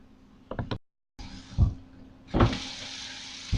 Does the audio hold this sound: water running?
yes